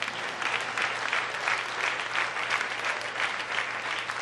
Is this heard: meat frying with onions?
no